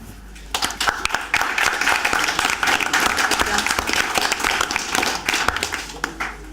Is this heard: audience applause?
yes